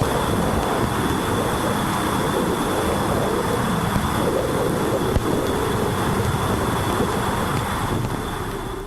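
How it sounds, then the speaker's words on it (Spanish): Electromagnetic waves from Uranus, captured by Voyager 2's plasma wave antenna, form a continuous broadband roar like rushing wind. A faint steady tone sits on top, and the level stays even throughout with no voices. "Este es el sonido de las ondas electromagnéticas procedentes del gigante gaseoso Urano, registrado por la antena de ondas de plasma de la nave Voyager 2."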